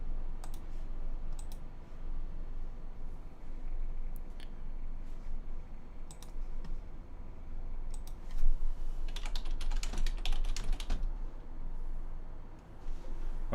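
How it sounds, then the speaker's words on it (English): Quiet clicking of keys on a computer keyboard, coming in short irregular bursts with pauses between them and a denser flurry of typing near the end, over faint room hum. "Where was I just typing?"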